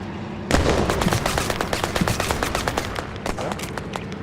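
Rapid automatic gunfire on a large map in the video game Battlerush 2, with a dense close burst of sharp shots that continues almost without pause for several seconds.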